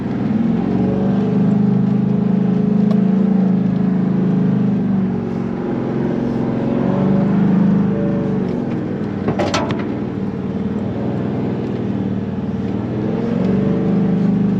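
A car on a sandy track near Cape Leveque climbs a sand hill on soft tyres, 30 psi at the rear and 25 at the front. Its engine drones loud and steady throughout, lifting and easing with the throttle amid rattles from the cabin.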